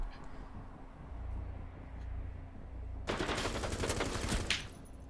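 Automatic gunfire in Rainbow Six Siege erupts after three seconds of low ambient game noise, a dense, loud burst of rapid shots that runs for about a second and a half before cutting off.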